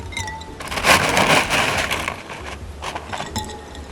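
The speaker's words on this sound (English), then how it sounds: "we're going to take our ice cubes and we're going to fill up that glass" Ice cubes tumble into a drinking glass for a home science experiment, giving a dense clatter of knocks and clinks followed by a few sparser clicks, with no talking.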